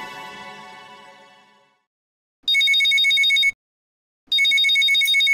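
A telephone rings twice in a domestic setting, two long bright electronic trills with a pause between, loud and close, following a fading musical tone.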